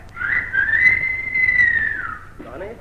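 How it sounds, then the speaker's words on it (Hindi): A person whistles a single sustained, clear note that rises slightly and then glides gently down, close and fairly loud for about two seconds before fading, with faint room noise after. "कौन है ये सीटी बजाने वाला?"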